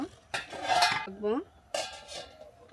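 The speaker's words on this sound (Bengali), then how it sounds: "লবণটা দিয়ে এটা আরেকটু নেড়ে চেড়ে আমি ঢাকনা দিয়ে ঢেকে দিব।" A lid is set onto a pot of pulao with a couple of close metallic clanks and a ringing scrape of metal on metal, standing alone without speech.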